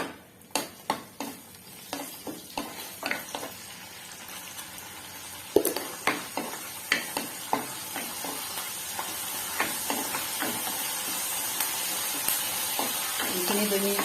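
Herb leaves and about three green chillies fry in a little oil, crackling with a string of sharp pops early on that settle into a steady, softer sizzle.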